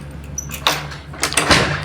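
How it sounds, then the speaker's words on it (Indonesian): A door in a fourth-floor hotel room in Takengon, Aceh, slides and bumps with a few scattered thuds and rattling scrapes over a low steady hum. "Ini udah pintu lah."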